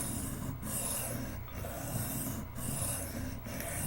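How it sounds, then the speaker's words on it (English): Steel being ground on a Camillus electrician's knife to cut a new bevel, a steady close rasping scrape repeated in strokes with brief pauses about once a second. "trying to grind quite a bit of steel and get myself an edge I can use, a bevel I can use"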